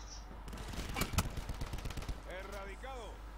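Long-range gunfire in the video game Call of Duty: Black Ops 4 cracks out in a rapid series of sharp shots, followed by a person talking near the end.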